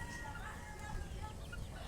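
Faint clucking from a rooster in the background, soft and intermittent over low ambient noise.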